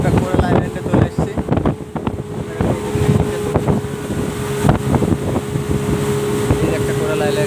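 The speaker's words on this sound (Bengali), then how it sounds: "আর এই যে দুটো দ্বীপের মাঝখান দিয়ে আমাদের বোটটা চলে আসছে।" Motorboat on open sea between two islands near Coral Island off Pattaya, Thailand: a steady engine drone with wind buffeting the microphone and voices talking over it.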